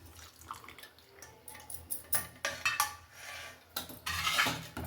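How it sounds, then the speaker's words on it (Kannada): Jaggery water strained into a small pot for moong dal payasa in a home kitchen, with light dripping and trickling under sharp clinks and scrapes of utensils, close and irregular, with no talk. "ಈಗ ಬೆಲ್ಲನ ಸೋಸ್ಕೊಳ್ತಾ ಇದ್ದೀನಿ ನೋಡಿ"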